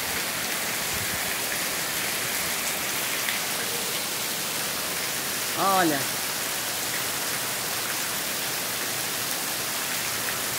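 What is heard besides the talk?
rain falling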